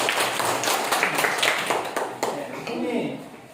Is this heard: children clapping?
yes